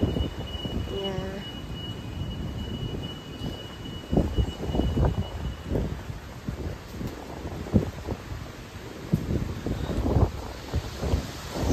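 Wind gusts outdoors in downtown Evanston, buffeting the microphone with a steady low roar and rumbling surges throughout, loud and close, with traffic-like noise blended underneath.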